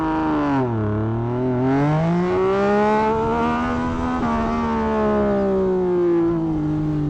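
Dyno-tuned 2024 Yamaha MT-09SP motorcycle accelerating hard from a standstill toward 100, a loud close rising engine note that climbs through the gears with brief dips at each shift, steady and continuous with no talk.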